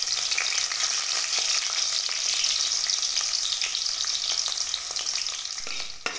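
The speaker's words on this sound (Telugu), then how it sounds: "ఉల్లిగడ్డలను కొంచెం బ్రౌన్ కలర్ వచ్చేంత వరకు వేయించుకోవాలండి" Onions frying in a pan to brown, a loud, dense, continuous sizzle close up with light stirring, then tapering slightly at the end.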